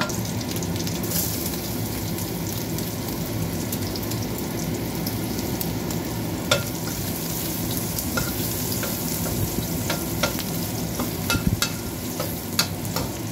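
Garlic sizzles and crackles in a very hot pan with meat while being stirred for Filipino adobong sitaw, a loud, continuous frying hiss with sharp scraping and clicking stir strokes scattered throughout.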